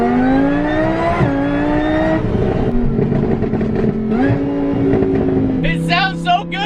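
A car engine revs steadily and loudly up close, its pitch climbing and dropping across several throttle blips, with people talking over it.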